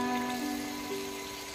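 Heavy rain falls steadily outside, a continuous broadband wash of drops on surfaces with a faint tonal hum underneath, no voices present.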